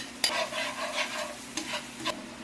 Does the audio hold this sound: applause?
no